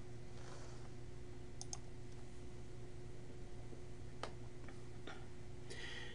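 Computer mouse clicking while navigating a PubMed search, heard as a few sparse, sharp clicks scattered over a steady background hum, fairly close and quiet.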